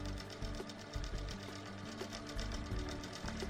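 An HQ longarm quilting machine stitches in basting mode, its needle running in a fast steady mechanical rhythm. The chatter is loud and close and continues without pause, with no talk over it.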